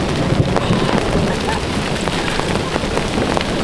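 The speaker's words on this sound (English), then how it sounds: "These are the size of BBs and getting bigger." BB-sized hailstones pouring down in a thunderstorm, a constant close rattle and patter of many small impacts on the ground, steady and loud with no voices.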